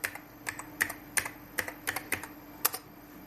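Fingers type a short command on a computer keyboard: about a dozen crisp, irregular key clicks over three seconds, close and fairly quiet, against a faint steady hum with no voice.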